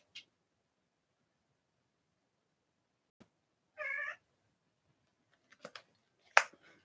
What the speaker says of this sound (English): There's a small cat running around,